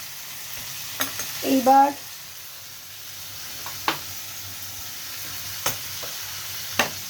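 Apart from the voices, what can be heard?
frying and stirring teasel gourd, potato and spices in pan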